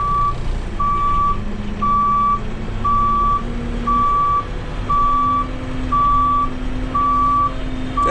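An excavator backs up while clearing a tree, its backup alarm sounding steady, evenly spaced beeps about once a second over a constant loud engine rumble, close by.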